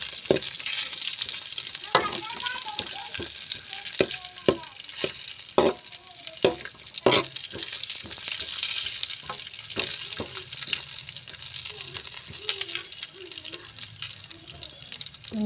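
Two items roasting in ghee in a pan until brown, with a continuous soft sizzle broken by intermittent spatula scrapes and taps.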